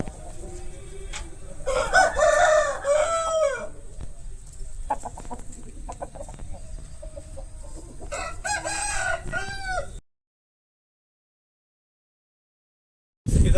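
A rooster crows loudly nearby, then a second crow follows, with some clucking in between before the sound cuts off.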